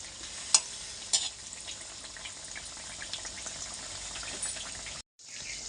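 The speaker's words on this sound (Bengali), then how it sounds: "তেলটা গরম করে আমি বড়াগুলো তেলের মধ্যে ছেড়ে দিয়েছি।" Vegetable-peel fritters fry in hot oil over a very low flame, a soft, continuous crackling sizzle heard close, with a couple of sharp pops early on and a brief dropout near the end.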